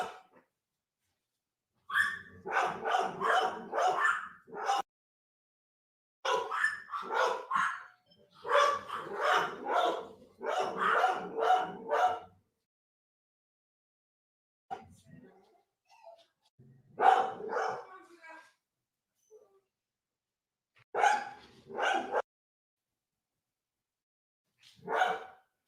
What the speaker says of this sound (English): Now I got my dogs bark because they hear these dogs barking.